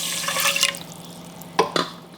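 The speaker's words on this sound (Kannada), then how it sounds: "ನಾನಿಲ್ಲಿ 1 ಕಪ್ನಷ್ಟು ನೀರು ಹಾಕ್ತಾ ಇದ್ದೀನಿ." About a cup of water is poured into a pot for sugar syrup while making tutti frutti. A splash comes at the start, then two short, sharper splashes later, close by with no talk.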